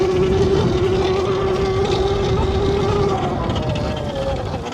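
A Tuttio Soleil Lo electric dirt bike runs at top speed in mode 2, giving a steady high electric motor whine with loud continuous wind rush and road noise, easing slightly toward the end.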